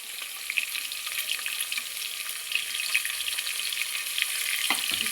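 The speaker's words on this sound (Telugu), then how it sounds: "ఉల్లిపాయలు అయితే వేగేయండి" Onion pieces sizzle steadily in hot oil in a pan for prawn biryani, a dense continuous crackle heard alone at a fairly even level, with a brief soft knock near the end.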